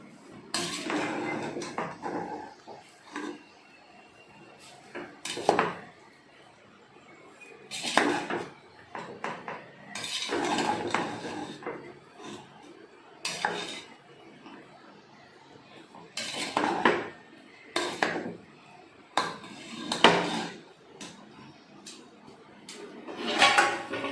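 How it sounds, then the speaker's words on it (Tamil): A spoon scrapes and clanks against a pot of vegetable biryani in a home kitchen, stirring in a dozen or so irregular bursts that rise and fall over about twenty seconds, close by with quiet gaps between. "வாங்க, ஃபுல்லாக ஒரு கிளறி விட்டுருவோம்."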